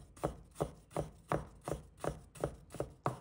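A knife chops fresh ginger into thin strips on a board, eight steady evenly spaced strokes, close and crisp with no voices.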